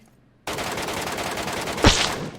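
Gunfire in a video game bursts in abruptly after a brief quiet, a sustained loud rattle of rapid shots with a sharper blast near the end, no talking over it.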